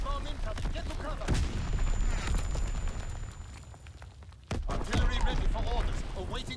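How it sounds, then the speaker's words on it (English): Enemy artillery fire lands in Call of Duty WWII, booming blasts and crackling gunfire in a loud battle mix, with a sudden heavy impact near the end and game voices speaking over it. "Incoming enemy artillery. Get to cover."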